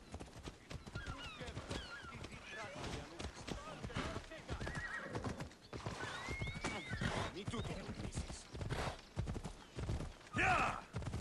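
Horse hooves clip-clop and a horse whinnies in Assassin's Creed Odyssey, the galloping running steadily beneath excited talk from a player, with a sharper whinny near the end.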